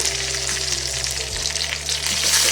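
Steady crackling sizzle of grated coconut, garlic and dried red chillies frying in hot oil for a tempering, with a low hum underneath and no voices.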